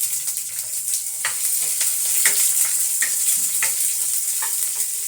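Chopped onions, crushed garlic and curry leaves fry in hot oil with mustard seeds, a bright, close sizzle broken by regular scraping strokes of a spoon roughly every second; no voices.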